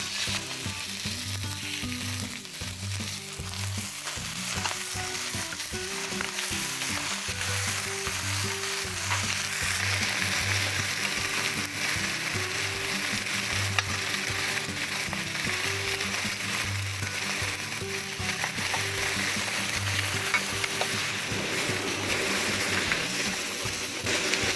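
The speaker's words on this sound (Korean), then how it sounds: "여기에 기름을 좀 두르시고요. 갈비를 모든 면을 잘 구워줄게요." Beef short ribs sear in an oiled pan, most likely cast iron or stainless steel, giving a steady, close sizzle and crackle that holds for the whole stretch, with occasional stirring and shifting noises and no talking.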